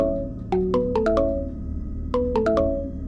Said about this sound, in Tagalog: Ringtone ko.